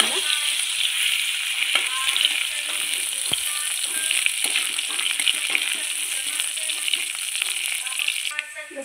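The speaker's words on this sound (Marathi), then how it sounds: "त्यात बारीक केलेला लसूण भाजून घ्यायचं चांगलं." Finely chopped garlic frying in a pan gives a bright, steady sizzle close up, with small clicks and stirring taps scattered through it and a slight drop near the end.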